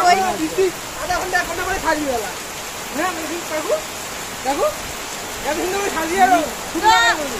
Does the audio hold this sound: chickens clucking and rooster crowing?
no